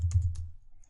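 Keystrokes on a computer keyboard while entering code, a few quick close clicks in the first half second, then a faint single tap near the end, with no talk.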